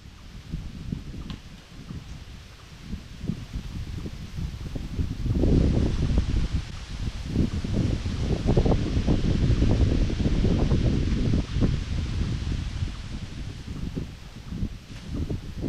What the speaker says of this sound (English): Wind is killing me.